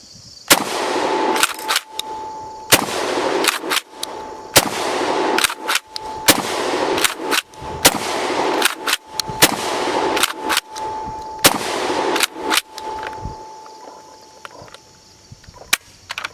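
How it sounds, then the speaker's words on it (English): A shotgun fitted with an MRO optic fires a magazine of rounds: more than a dozen sharp, loud blasts at roughly one-second intervals, each followed by a brief ringing decay. "It is a shotgun."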